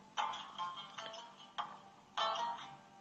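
A telephone rings faintly, heard as three or four short electronic bursts spaced about half a second apart in a quiet room.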